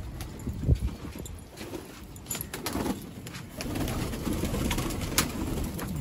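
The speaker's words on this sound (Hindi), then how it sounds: "कबूतर सारे बाहर आ चुके हैं" Pigeons coo and shuffle around a net enclosure, soft low calls rising and falling alongside scattered clatter and scuffing nearby, with no talking.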